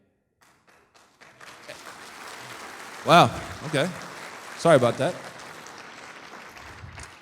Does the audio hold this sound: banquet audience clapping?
yes